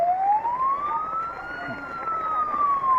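A fire truck siren wails steadily with a long rising and falling tone, loud and close, over a rumbling traffic background.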